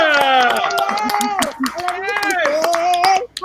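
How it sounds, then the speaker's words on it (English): Audience clapping at a comedy show, sharp scattered claps running throughout, mixed with loud voices talking over the applause. "Everybody clap for Cece Exa!"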